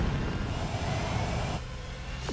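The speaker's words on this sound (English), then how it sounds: "This thing comes with thrusters." Steady roaring thrust from a mech's thrusters in DOOM The Dark Ages, a continuous loud whoosh that holds for about a second and a half before dropping to a quieter rumble.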